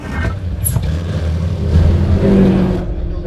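BMW 116 Trophy race car engine pulling hard under acceleration at Snetterton, a loud steady drone rising in pitch, close and continuous with no talk.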